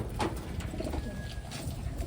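Taiwan pigeons, including a black check hen, coo softly in a loft, a low murmur of cooing under steady background noise.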